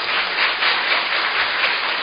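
An audience at a formal opening ceremony for a Korean school nutritionists' policy event claps steadily to welcome a speaker, a dense, even wash of applause throughout.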